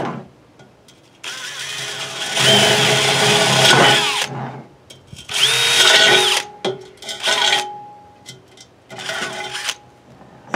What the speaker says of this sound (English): Just take a 3/8 drill and drill that out